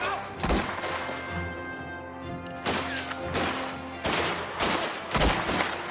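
Gunshots from the video game Mafia: The Old Country: several loud, sharp reports spaced a second or so apart, each ringing out over a steady game backdrop with music-like tones.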